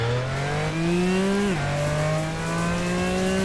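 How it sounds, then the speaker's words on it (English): A car engine in a Roblox driving video game hums steadily at close range, its pitch climbing and then dropping sharply at a gear shift before settling into an even drone. "It's not just the same engine sound across the board."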